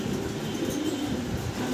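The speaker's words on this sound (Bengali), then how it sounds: "একজোড়া এক্সিবিশন কবুতর আপনাদেরকে দেখাচ্ছি।" A pair of exhibition pigeons gives low, soft cooing in a short burst, close by and fairly steady, with no talking.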